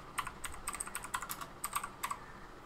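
A computer keyboard is typed on in quick, uneven bursts of close, light key clicks over a short stretch, with no voices.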